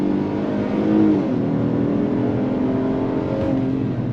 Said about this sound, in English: On throttle, here we go. 10-speed drops down and we are off.